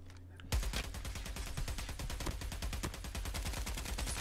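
Rapid automatic gunfire rings out in a 1v1 match of the mobile shooter Call of Duty Mobile. A quick run of sharp shots begins after a short quiet moment and keeps up steadily to the end.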